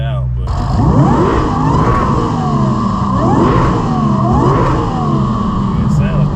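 A supercharged Audi B8.5 RS5 with a JHM exhaust revs in several rising and falling sweeps, loud and close, with people talking over it.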